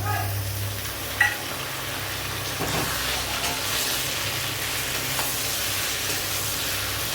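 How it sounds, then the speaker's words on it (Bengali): A steady, hissing sizzle of potato, onion and garlic frying in a pan, with one soft thud early on as chopped tomato is added, and faint stirring. "এই যে আলু পেঁয়াজ রসুন সবটাই ভাজা হয়ে গেছে, এবারে দিয়ে দেবো টমেটো কুচি"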